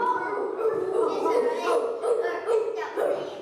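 Young children in a Year 2 classroom imitate a dog barking with their voices, giving a run of short, repeated woof-like calls in quick succession, fairly close and loud.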